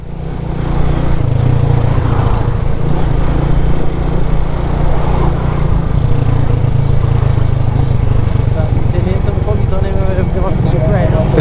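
Police dirt bike of about 250 cc on a Jamaican street, its engine droning loud and steady throughout with street noise around.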